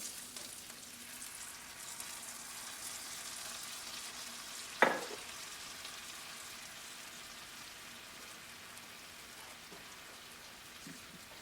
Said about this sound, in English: we're gonna make some red eye gravy. Gotta put our coffee in.